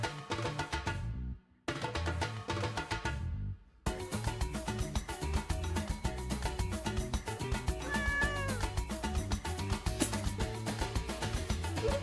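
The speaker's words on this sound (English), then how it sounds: "I heard a cat. That means a cat just came on the screen." A cat meows once in the video game The Roottrees Are Dead, a short rising cry over steady background game music.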